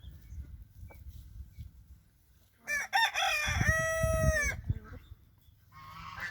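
A large young rooster lets out a loud, drawn-out crow close by, following a few quiet clucks and rustling, with other chicken noises faintly at the end.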